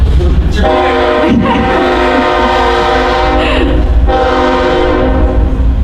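A train passes close by and sounds a long, loud, sustained multi-tone horn that cuts off and resumes, with steady rumble and wheel noise underneath throughout.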